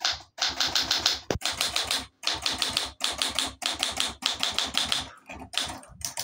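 Olympia SG1 manual typewriter keys strike in quick, steady bursts with short pauses between runs, crisp and close, and a single sharper clack partway through.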